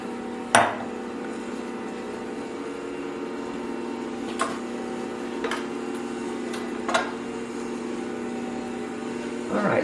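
Ankarsrum stand mixer with a turning bowl mixing bread dough, a steady low motor hum with a few sharp knocks and clicks scattered throughout.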